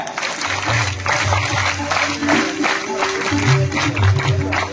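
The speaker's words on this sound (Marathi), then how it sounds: "जोरदार टाळ्या सर्वांनी द्यायच्या आहेत. Raise your hands. Rhythmic clap." An audience at a Marathi lecture event claps together in rhythm with raised hands, a steady run of hall-wide claps over a low droning background that lasts throughout.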